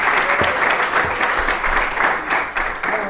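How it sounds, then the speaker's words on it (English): Steady applause from an audience, many hands clapping densely and loudly for a few seconds without pause. "give them a round of applause real quick"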